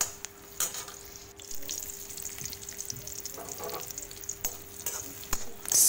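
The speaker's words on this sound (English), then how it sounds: "Saute it for a few minutes." Ginger, curry leaves, cashews and raisins sauteing in ghee in a pan, giving a steady soft sizzle with occasional stirring scrapes and clicks, close and moderately quiet.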